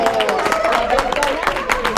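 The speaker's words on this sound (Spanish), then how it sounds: "¡Aplausos!" A church congregation applauds: a dense, brief burst of many hands clapping at once, loud and close, with faint crowd murmur underneath.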